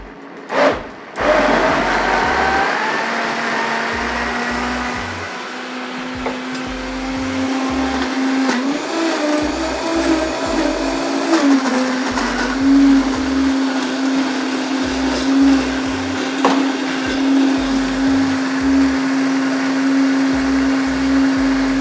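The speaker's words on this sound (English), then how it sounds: "You don't need a super fancy high-speed blender, any blender works" A household blender runs steadily for about twenty seconds while mixing a green smoothie, a loud, continuous motor whine with a grinding churn, fairly close and with no talking over it.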